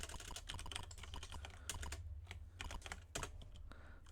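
Quick, close typing on a computer keyboard, a dense run of clattering keystrokes with brief pauses and no talk.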